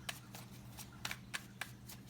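Tarot cards are shuffled close by in quiet, soft riffling snaps, several light flicks in an uneven rhythm against a low background hum.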